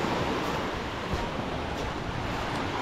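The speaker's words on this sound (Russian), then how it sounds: "Шума моря вам в ленту." Sea waves washing onto a hotel beach at a resort in Kemer, Turkey, in the evening: a steady, full surf roar with soft swells, close and continuous, with some wind noise and no talk.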